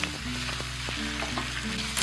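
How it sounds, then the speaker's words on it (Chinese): Fish pan-frying over medium-high heat in an iron wok gives a steady, dense sizzle throughout, with a few soft clinks of utensil against metal. "煎鱼的话，我们就要保持中大火煎"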